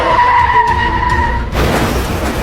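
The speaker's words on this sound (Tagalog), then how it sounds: "Yung sasakyan nagkabanggaan." Car tires skid with a sustained tonal squeal for about a second and a half, then a sudden broadband crash-like burst as the car collides, loud and close.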